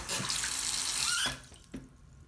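Water streams from a swivel kitchen sink faucet aerator, a steady close hiss that cuts off abruptly, followed by a couple of faint drips and clicks.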